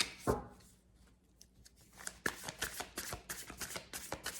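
Tarot cards are shuffled close up in rapid riffling bursts, with a sharp tap at the start and a run of quick flutters in the second half, quiet and without talk.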